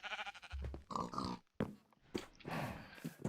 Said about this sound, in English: We have our pigs. Hello, piggies.